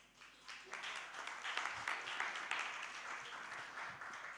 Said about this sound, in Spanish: me gustaría que le diéramos un fuerte aplauso